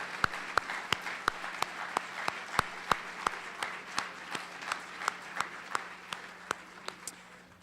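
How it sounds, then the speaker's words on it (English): Audience at a school honors evening applauding recognized students; a sharp, regular clap stands out close by above a soft, steady background of crowd clapping that continues throughout. "let's have one more round of applause for all of our students who are recognized this evening."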